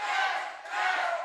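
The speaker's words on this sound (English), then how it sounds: "Listen to this crowd. They are out of control." Wrestling crowd roaring wildly, a dense sustained wall of cheering and yelling that dips briefly midway and then surges again, loud and close with no other voices on top.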